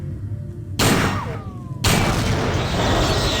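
Regular-ammo gunfire in System Shock 2: two loud, sharp blasts about a second apart, each with a bright burst and a long echoing tail. No one speaks.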